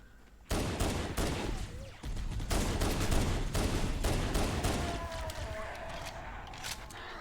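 Dense, sustained gunfire from the Halo CE Anniversary video game, a steady barrage of rapid shots running almost without pause after a brief quiet start.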